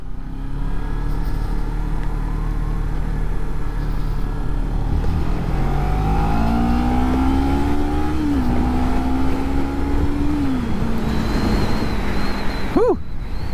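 Kawasaki Ninja 300 motorcycle ridden through snowy winter scenery, its engine droning steadily under loud wind rush and gradually rising in pitch as it accelerates through the gears.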